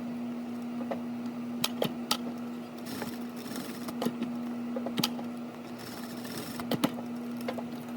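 A sewing machine top-stitches an elastic cuff casing with a steady, close mechanical hum and rapid needle chatter, broken by sharp clicks and brief pauses.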